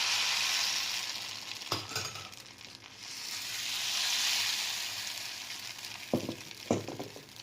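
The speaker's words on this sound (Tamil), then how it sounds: "அப்ப கடாய் வந்து அடுப்பில் வச்சு சூடுபடுத்திட்டேன். இதில் வந்து மாவு ஊற்றிக்கிறேன்." Appam batter hisses and sizzles in a hot kadai on the stove, a soft steady frying sizzle with a few clinks and knocks from the pan, no talking.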